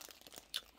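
Bite into a soft Snorlax Pokémon bread bun, a faint short crunchy crinkle with one sharper bite near the end, close and quiet.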